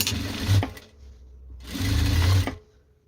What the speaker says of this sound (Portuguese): E passo uma costurinha de segurança.